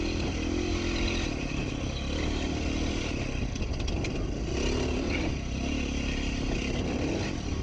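A motorcycle ridden off-road among cactus, engine droning steadily and loud with rising and falling revs, wind rush and light clatter throughout.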